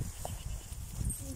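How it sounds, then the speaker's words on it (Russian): A young goat kid near a garden plot gives a short, faint bleat amid low rustling and background noise, heard close by. "А, так это козленок."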